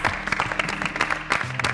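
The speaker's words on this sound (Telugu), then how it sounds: "క్లాప్స్." Applause at a televised cooking competition mega final, a burst of lively clapping from a group with uneven rhythm, close and full, with a voice briefly in the background.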